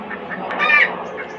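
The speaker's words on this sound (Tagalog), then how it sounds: "Yung mga manok rito, mga Chinese chicken." A Chinese-breed chicken clucks close by in a brief, raspy burst that rises in the middle, with no voices alongside.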